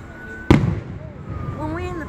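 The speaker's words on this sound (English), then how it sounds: "The fireworks." A single loud firework bursts nearby, a sharp bang followed by a brief crackling decay, and people talk over the outdoor background.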